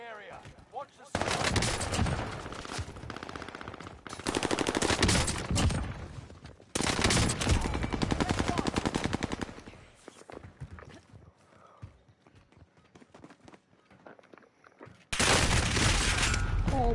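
Automatic gunfire in a Call of Duty match, several long sustained bursts separated by quieter stretches, loud and close.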